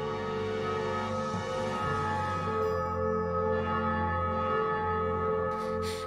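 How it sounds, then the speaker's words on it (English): A church bell in the GrimGrimoire OnceMore video game rings with sustained, layered harmonic tones that hum and overlap steadily, clear and fairly close with no voices. "The bell on the fifth night."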